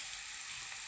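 Tomato sizzles with poha in a pan, a brief, even, airy hiss of frying with no voices.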